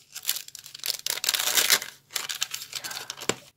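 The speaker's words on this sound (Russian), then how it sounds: "Он такой шуршащий." A rustling plastic packet is torn open during a paper surprise unboxing: bursts of crisp crinkling and tearing come close up, with brief pauses between handlings and a final sharp crackle.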